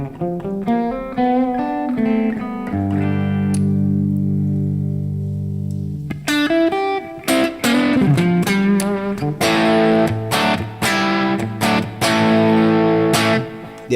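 Electric guitar through a small Marshall amp set at the edge of breakup, slightly gritty tone: sustained chords ring out, then sharper strummed and picked stabs in a choppy rhythm, fairly loud.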